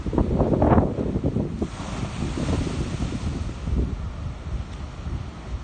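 Giant ocean waves crash at Boston after a storm, a loud surging roar with heavy wind buffeting the microphone, one big break early and then continuous rumbling surf.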